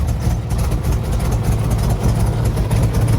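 A ghost-cammed Ford Mustang GT with headers and a Corsa Sport exhaust idles nearby, a deep, loud, lumpy rumble with an uneven choppy pulse.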